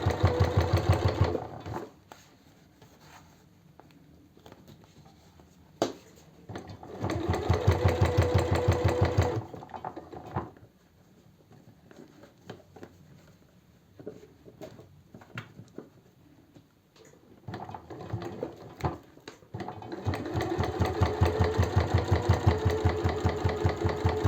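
A sewing machine stitches a large clear cosmetic bag made from fabric scraps, running in steady mechanical bursts of a few seconds with quieter pauses in between.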